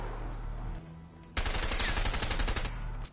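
Rapid MP5 submachine gun fire in the video game A Way Out bursts in after a quieter stretch, a dense loud rattle of shots sustained for well over a second, then stopping.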